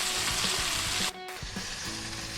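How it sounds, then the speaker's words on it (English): Steady, dense sizzling of chicken pieces frying in hot oil, with a brief break partway through before the crackling resumes. "Sizzle, sizzle."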